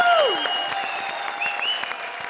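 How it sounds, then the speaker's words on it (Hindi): Steady applause from a comedy show's studio audience, a continuous wash of clapping with a sweeping musical effect at the start and short tonal accents later. "जोरदार तालियां।"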